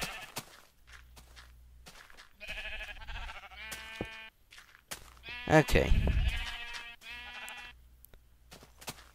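Sheep bleat in the Minecraft video game, with several short wavering baas spread across the stretch and one louder cluster near the middle. A person talks briefly between them, and soft footstep-like thumps can be heard.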